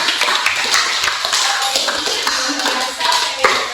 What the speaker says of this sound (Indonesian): berikan aplaus dulu